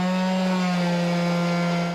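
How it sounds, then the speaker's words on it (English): A reciprocating saw cuts through seam sealer and sheet metal with a continuous loud buzzing drone that holds steady for two seconds, close up and without talk. "I found this reciprocator to work really, really well for cutting the big chunks off of all this seam sealer"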